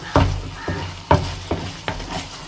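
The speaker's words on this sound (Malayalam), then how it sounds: "നെയ്യ് കുറച്ച് ഇങ്ങനെ ഇട്ട് കൊടുത്താൽ ഇത് ചട്ടീനെ ഇങ്ങനെ ഇട്ട് വരുന്നവരെ ഇളക്കി കൊടുക്കണം" Halva with ghee is stirred in a pan, giving repeated spoon scrapes and soft knocks against the pan about every half second over a low sizzle, close up with no talking.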